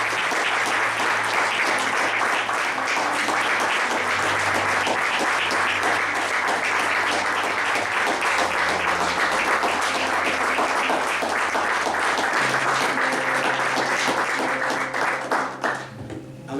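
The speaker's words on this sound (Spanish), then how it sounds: "si usted tiene ganas de darle un fuerte aplauso" Loud, sustained applause from a church congregation at a Sunday service, dense and steady for about fifteen seconds, with a low sustained tone beneath that suggests music, then tapering off at the end.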